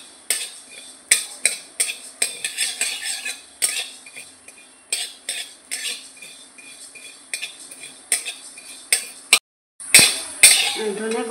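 Whole coriander seeds fry in a pan for a fish curry, stirred with a metal utensil that clinks and scrapes in quick irregular bursts close by, over faint crackling.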